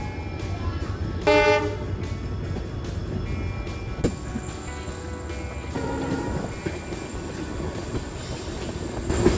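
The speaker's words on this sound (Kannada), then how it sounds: "ಈಗ ನಮ್ಮ ಟ್ರೈನ್ ಕಟ್ ಸೆಕ್ಷನ್ ಅಲ್ಲಿ ಹೋಗ್ತಾ ಇದೆ" A passenger train clatters steadily along the rails near Dudhsagar Falls, Goa, with a short horn toot early on and occasional wheel squeals, no talking.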